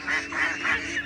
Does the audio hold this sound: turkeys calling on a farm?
yes